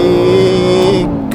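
A modified Aston Martin Vantage engine holds a loud, steady rev on the road, with a strong constant drone that eases off near the end.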